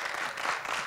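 Dense crowd applause at a poetry recitation competition, filling a short moment, steady and fairly loud with no voices standing out.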